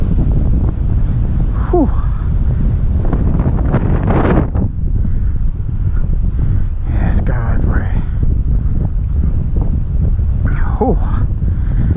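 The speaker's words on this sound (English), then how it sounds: "Oh, bloody wind." Strong wind buffets the microphone continuously at a trout fishery lake, a loud low roar filling the whole stretch, with a man's brief exclamations and breathy sighs heard over it.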